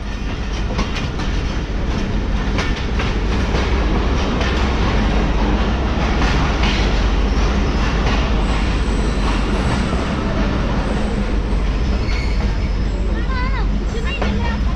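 Mohen Jo Daro passenger train running through rain-soaked Sindh, a loud continuous rumble with rhythmic wheel clatter heard from inside the carriage, with faint voices in the background.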